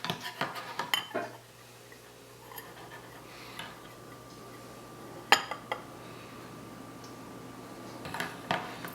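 A spoon tapping and clinking against glass and dishes during stout home-brewing, a few close sharp clinks at the start, one bright ping midway and more light knocks near the end, over faint room hum.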